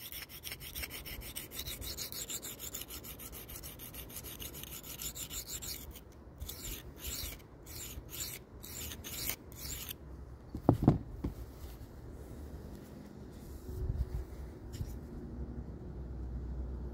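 Spyderco SPY27 Manix knife blade rubbing across Venev resin bonded sharpening stones, a steady close rasping stroke that breaks into separate passes partway through, with a couple of louder knocks, no talk.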